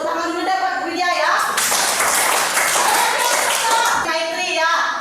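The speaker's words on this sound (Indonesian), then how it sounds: "Kasih tepuk tangan dulu deh buat Widya ya." Classroom applause from children during a Hindu religious education lesson, a loud burst of clapping that fills most of the moment, with a teacher's speech before and after it.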